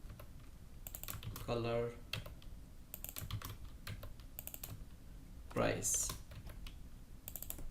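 Rapid clicking keystrokes on a computer keyboard come in short bursts, close and clear, while someone speaks briefly in between.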